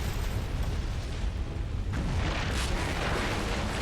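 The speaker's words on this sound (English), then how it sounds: "Things are exploding." Explosions rumble through a Fable III game scene as a steady, dense roar with low booms that swells louder around the midpoint and keeps going without letup.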